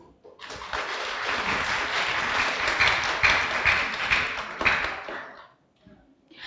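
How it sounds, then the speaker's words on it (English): Audience applause at a campus panel discussion event on ASEAN, a broad sustained wash of many clapping hands lasting about five seconds before fading out, with no talk over it. "Please give a big round of applause."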